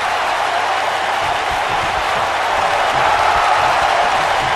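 A wrestling arena crowd in Sacramento roars steadily for Izuku Midoriya, known as Deku, at a cruiserweight match, a loud dense wash of cheering and scattered clapping that swells slightly toward the end, with no clear speech.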